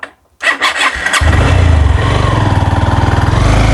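A motorcycle with a weak battery cranks briefly after a moment of quiet, then catches and settles into a loud, steady, close idle in Sankhla village, Dhobaura, Mymensingh.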